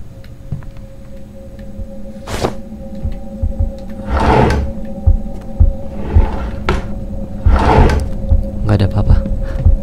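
A drawer slides open in the Grandpa horror video game, giving several short scraping bursts over a steady low hum and a throbbing heartbeat-like pulse, with a voice talking nearby.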